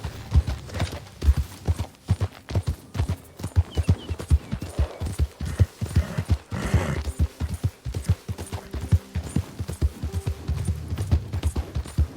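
Horse galloping in the Red Dead Redemption 2 video game, with rapid, steady hoofbeats clip-clopping continuously and close throughout, and no talk over them.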